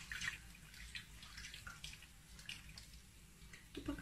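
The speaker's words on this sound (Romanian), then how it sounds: "Acum mai adăugăm niște apă peste partea astea." Water from a tap splashing and trickling steadily over raw chicken legs in a pan, a soft continuous wash with small drips and splatters throughout.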